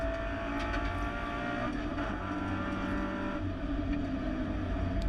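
A Toyota 86 production touring car works hard around Wakefield Park circuit, heard on board as a constant loud, dense engine roar with little change in pitch.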